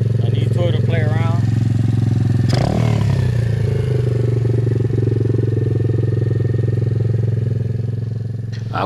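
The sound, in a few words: Apollo dirt bike engine revving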